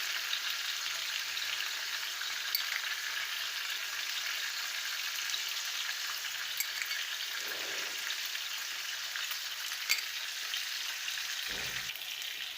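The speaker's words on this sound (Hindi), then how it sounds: "इसको हमने फ्राई करना है। इसमें 2 चम्मच कुटा हुआ जीरा ऐड करेंगे।" Fish curry masala with two spoons of crushed cumin fries steadily in a pan, a close, even sizzle with no talk throughout.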